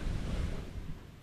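Strong wind buffets the microphone in a constant low roar, gusting unevenly with no other sounds, on a farm in Pagbilao, Quezon.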